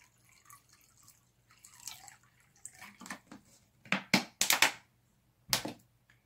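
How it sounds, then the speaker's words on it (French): Spring water is poured into a salad bowl indoors, giving a string of splashing, dripping pours that start faint and scattered and then build into several louder gushes with short gaps between them, with no voices. "Prenez donc un saladier et remplissez-le d'eau de source."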